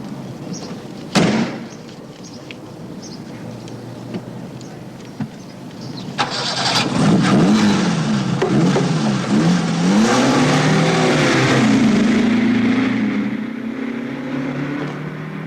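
A car door slams, then an engine fires up at about six seconds and revs hard, pitch sweeping up and down as the car accelerates away, loud and close with no talk.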